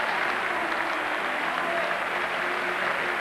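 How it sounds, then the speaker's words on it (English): A football crowd at West Ham's ground gives an FA Cup third-round replay side a standing ovation: steady, dense applause rolls on throughout, broad and distant, with no single voice standing out. "as Farnborough take a lap of honour, they get a standing ovation"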